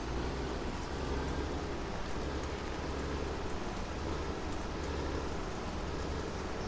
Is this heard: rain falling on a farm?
yes